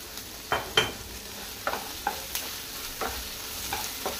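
Onions frying with salt for egg curry give off a low, steady sizzle while a spoon stirs them, producing a string of light clinks and scrapes spaced through the frying.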